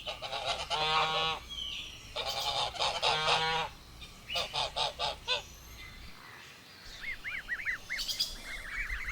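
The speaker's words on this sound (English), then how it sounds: "Gosling." A gosling calls amid goose honking, with rapid series of nasal honks in several bursts and thin, high peeping chirps toward the end, over a steady outdoor background.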